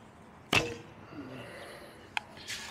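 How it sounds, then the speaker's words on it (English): An arrow leaves a Mantis X8 bow with a sharp, close snap of the string. A softer rustle follows, then a brief crisp click and a faint later thump. "We'll show you the movement from the shot until the arrow left the bow."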